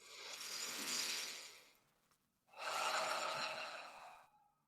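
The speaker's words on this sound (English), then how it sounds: "Take a fuller breath in and then let it go through the mouth." Two slow, deep breaths, each a long airy rush through the mouth, close and soft in a quiet room with a short pause between them.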